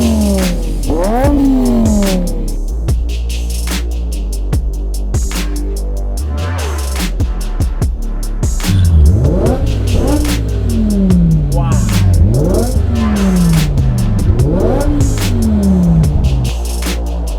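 A BMW 850i fitted with a V10 engine revs repeatedly, loud and close, each blip climbing in pitch and falling back, then a series of rising runs through the gears over a steady low drone.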